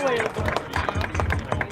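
Crowd applause for Mike Napoli and his family at a high school baseball game, with rhythmic claps rising over a broadcaster's talk and crowd murmur.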